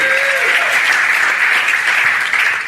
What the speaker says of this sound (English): Big round of applause, Carl Ruiz.